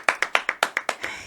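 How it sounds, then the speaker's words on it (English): A single pair of hands claps about eight times in a steady rhythm, each clap sharp and close, and the last one trails off softer. "That's when we all applaud right there"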